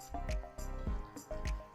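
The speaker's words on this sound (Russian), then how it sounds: "И аккуратно лопаткой снизу вверх перемешиваем." Sushi rice with its poured-in sauce being gently folded bottom to top with a spatula, giving a few rhythmic, close, moist squishing strokes with short pauses between them.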